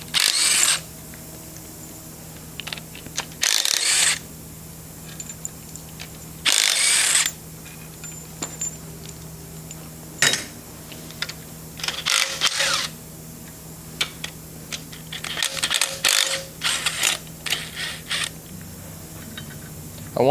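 A hand ratchet loosens the front engine mount bolts on a Cummins 855 Big Cam III diesel in a Steiger Panther tractor, with several bursts of rapid clicking separated by pauses and scattered metallic knocks, close up.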